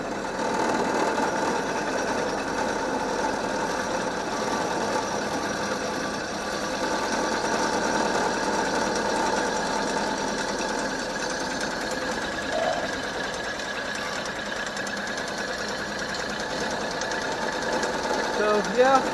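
Milling machine running on power feed while milling engine mounts, giving a steady mechanical whirr with a faint rhythmic chatter that holds throughout, with a voice speaking over it at times.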